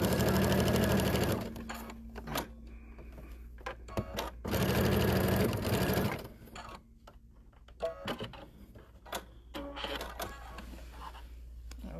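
A sewing machine stitches fabric in two loud bursts of rapid mechanical chatter, followed by quieter clicks and handling noises between the runs.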